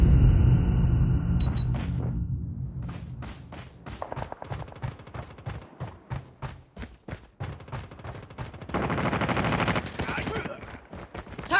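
Rapid bursts of gunfire and heavy shotgun blasts from the multiplayer mode of the mobile shooter game Call of Duty Mobile, loud and close, with sharp repeated shots and dense volleys in the later stretch.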